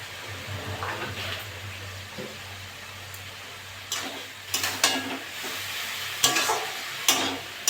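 A spoon scraping and stirring ash gourd and prawn curry in a sizzling pan, with low steady frying beneath and louder scrapes and knocks clustered toward the end.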